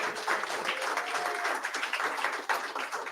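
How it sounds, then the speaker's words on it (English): A church congregation at a family service claps in a steady dense round of applause that holds at an even loudness throughout. "Let's give them a round of applause."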